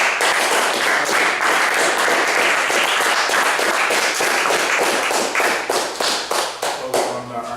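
Audience clapping at a youth mentoring program event, a loud, dense wall of many hands applauding up close, thinning into scattered individual claps toward the end.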